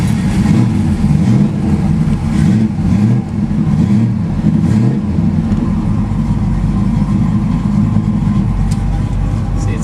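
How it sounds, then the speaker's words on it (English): A 1973 Dodge Challenger's factory 340 V8 rumbles loudly and steadily at idle, with a deep throbbing low end and slight fluctuations in its lope throughout. "Start it up so you can hear the engine."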